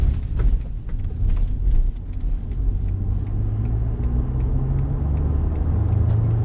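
2019 Ford F-150 EcoBoost pickup accelerating onto a highway, heard from inside as a steady low engine and road rumble with a rising drone and faint clicks, no talking.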